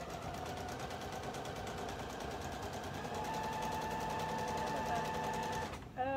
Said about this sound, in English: I'm just sewing this on with the straight stitch.